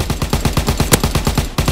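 Rapid automatic gunfire in the WW2 video game Road To Prestige, a steady loud stream of about fifteen evenly spaced shots with one sharper crack near the middle, with no talk over it.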